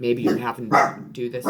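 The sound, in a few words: dog barking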